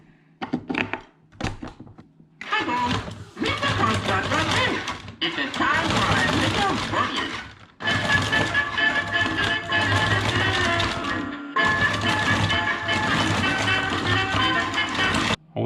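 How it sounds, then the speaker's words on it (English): A battery-powered Jar Jar Binks motion figure runs on nine AA batteries, playing loud, close, toy-like singing and music in long bursts with short pauses, mixed with mechanical clicks and thunks as it dances. "This is like a Jar Jar Binks like motion figure, I guess. He's supposed to like dance and sing and stuff."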